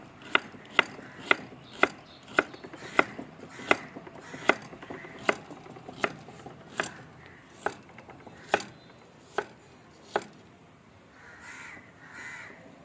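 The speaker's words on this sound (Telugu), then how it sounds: "మనం ఈ ఉల్లిగడ్డలు కట్ చేసుకుందామండి" Knife chopping onions on a board, a steady series of sharp, evenly spaced close knocks that slow and thin out toward the end, with no talking.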